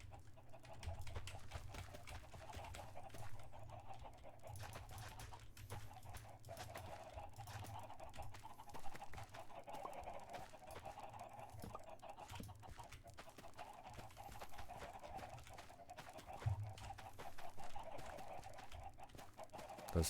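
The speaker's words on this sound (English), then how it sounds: "Those chickens are so loud." Chickens cluck continuously on a farm in a block-building video game, a dense, steady flock chatter layered over constant game ambience for the whole stretch.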